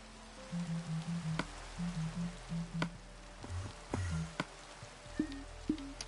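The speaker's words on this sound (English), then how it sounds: "How do I turn off the rain?" Rain falling in the Minecraft video game, a soft broadband hiss of steady rainfall running through the whole stretch beneath intermittent low tonal game sounds and clicks.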